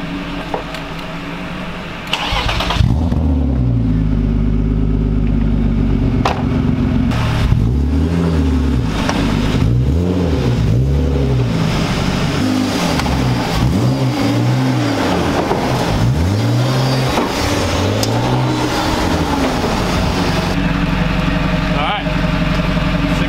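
A 1995 BMW E36 325is drift car revs hard again and again at a drift event. The engine note swoops up and down in repeated loud sweeps, with short lifts between pulls and steady wind and tire roar underneath.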